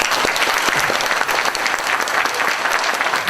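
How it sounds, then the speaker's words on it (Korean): An audience at a book concert in Changwon applauds steadily to welcome a politician onto the stage, a dense, continuous wash of clapping from a large crowd with no voices standing out. "여러분 박수로 모시겠습니다."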